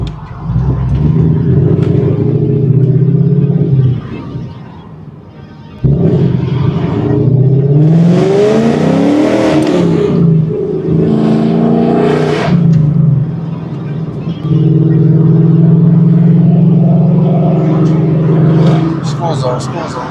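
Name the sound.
Ford Mustang driving on highway without hood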